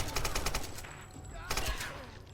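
Rapid gunshots in the Tomb Raider (2013) game, bursts of sharp cracks at the start and again near the end, loud and close over background game sound.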